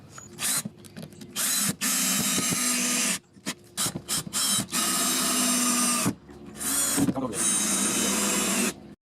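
A power driver sinks screws through wooden ramp boards into joists for a shed or garage ramp, a series of loud, short whirring bursts separated by brief pauses.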